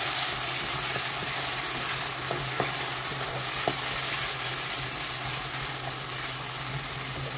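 Eggplant sizzling steadily in a frying pan while being stirred, with occasional sharp spatula taps and scrapes over a constant close, loud hiss.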